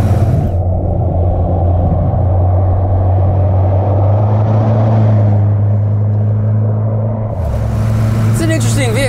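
A 1994 Toyota pickup truck drives through corners, its engine a steady low drone with road rumble heard from inside the cab, shifting in pitch near the end as a faint squeak cuts in.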